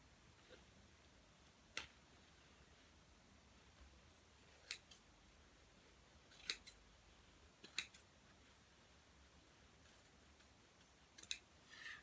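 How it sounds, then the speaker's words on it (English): Scissors snip through shirt-cuff fabric in a handful of sharp, isolated cuts spaced a second or two apart, quiet and close, with no talking. "Cut this flap off where it attaches to the rest of the arm with a pair of scissors."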